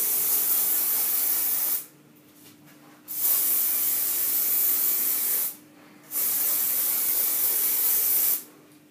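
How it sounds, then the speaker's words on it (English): Mega Volume hairspray sprayed over hair in three long hissing bursts, each lasting a couple of seconds, separated by brief pauses, close and loud with no talking. "I'm going to spray this all over."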